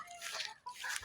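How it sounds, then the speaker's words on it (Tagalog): Chickens on a small backyard farm clucking and calling in short bursts, fairly close, with a brief pause midway and no voices. "Ayan po, may mga manok po kami."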